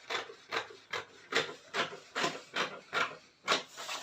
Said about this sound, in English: Next I will do is to cut my pattern.